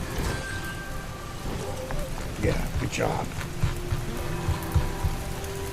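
Steady rain patters throughout a scene in the video game Operation Lovecraft, a constant mid-level wash with footsteps and game effects over it, while someone talks briefly.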